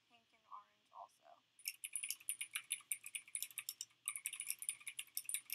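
A mechanical keyboard with clicky Gateron green switches is typed on in quick, sharp, close clicks in two runs broken by a short pause, after a few faint vocal sounds at the start.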